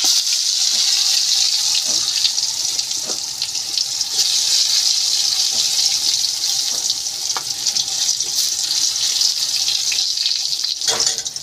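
Eggplant slices frying in hot mustard oil in a wok give a steady, close, broadband sizzle that runs unbroken throughout, with a few faint clicks and taps as pieces are added.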